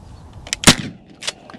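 Shotgun blasts during a pigeon hunt over a cut cornfield, one loud, close, sharp report followed by a fainter second shot about half a second later, with no talking.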